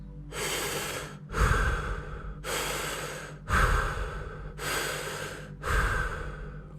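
Continuous breathwork breathing, deep inhales and exhales at about 90% capacity with no pauses between them, six loud, close, airy breaths in a steady rhythm.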